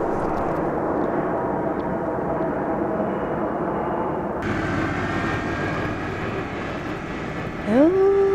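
An airplane passes over open countryside, a broad steady drone that shifts midway, with a rising whine near the end. No voices.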